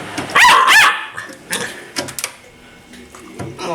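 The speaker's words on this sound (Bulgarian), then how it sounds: "защо лаеш?" A dog barks twice in quick loud succession close by, followed by softer yips and whimpers scattered through the rest of the moment.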